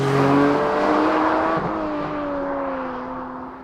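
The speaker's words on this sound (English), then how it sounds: "you're listening to a naturally aspirated 6-cylinder 4-liter engine" A 2020 Porsche 718 Spyder's naturally aspirated 4-liter six-cylinder engine revs hard from inside the car, its tone climbing then easing into a smooth, steady drone.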